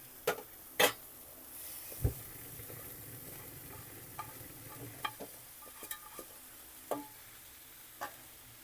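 Egg rice with turmeric stir-frying in a pan, a soft continuous sizzle broken by scattered clinks and scrapes of a spoon, faint and close with no talk.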